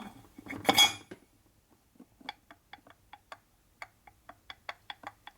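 Loose bushing rattling inside a Harley-Davidson shovelhead cam case on a workbench: after a brief rough scrape, a string of light metallic ticks and clinks taps out at an uneven pace, close and fairly quiet, with no talking.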